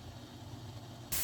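Pancetta frying in a pan, a steady close sizzle and hiss that stays even throughout, then swells into a louder burst right at the end.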